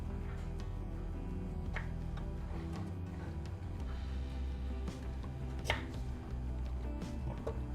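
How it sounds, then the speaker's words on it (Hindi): A knife chops through tomato on a cutting board in a cloud kitchen preparing paneer tikka, with a series of quiet, irregular taps under a steady low kitchen hum. "बिल्कुल बाहर का हिस्सा काटेंगे टमाटर का"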